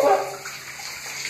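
Water runs steadily from a shower while a baby is bathed, a close, continuous splashing wash with no talk over it.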